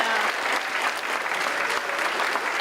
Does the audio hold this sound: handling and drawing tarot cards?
no